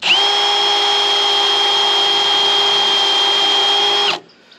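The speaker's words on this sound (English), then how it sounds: "I'm going to drill the pilot hole first" A power drill whines steadily at a high pitch for about four seconds while drilling a pilot hole in thin metal, then cuts off abruptly, leaving quiet room noise.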